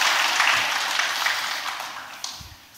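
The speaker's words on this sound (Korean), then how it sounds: "다시 한 번 더 환영의 박수 해주시면 감사하겠습니다." A church congregation claps in welcome during a combined all-generations worship service, a soft, even patter of many hands in a large room that slowly fades out.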